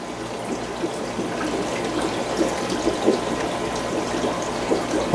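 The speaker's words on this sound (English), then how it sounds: "a ton of flow, ton of water coming out of there" Jebao DCT-8000 water pump pushing a strong flow, heard as a continuous gurgling, splashing wash of water, moderately loud and steady with small bubbling bursts, no talk.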